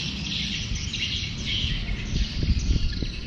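Steady high-pitched chirping of many swiftlets fills the air at a market in Sumbawa, a dense continuous chorus with a low rumble underneath.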